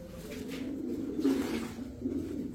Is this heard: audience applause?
no